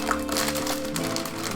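Plastic packaging crinkles and rustles as a Corsair K95 RGB Platinum keyboard is unwrapped, a brief close burst of crumpling film and wrapping.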